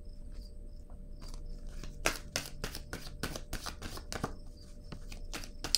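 Tarot cards shuffled by hand in a quiet room, a quick run of crisp riffling flicks over a faint background hiss.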